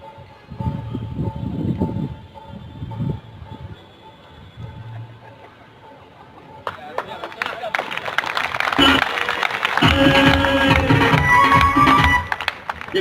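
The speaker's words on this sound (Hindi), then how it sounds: "ये ताली किसके लिए बजाई?" An audience at an RCM business talk in Patna breaks into clapping that swells into sustained applause after a stretch of amplified speech and murmur.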